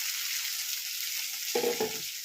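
Diced potatoes hit a pan of cumin and green chili tempering. A steady oily sizzle runs throughout, then a louder crackling burst swells as the pieces drop into the hot fat.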